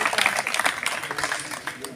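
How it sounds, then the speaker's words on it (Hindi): An audience at a political gathering claps steadily to welcome a speaker, a dense continuous patter of applause throughout. "जोरदार ताली बजा के स्वागत"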